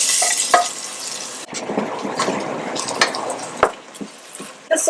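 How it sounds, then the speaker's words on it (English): Pine nuts fry and get stirred in heated oil, crackling and sizzling in bursts with scraping stir sounds and a few sharp clicks of a utensil against the pan. "with the oil heated up, we add our pine nuts."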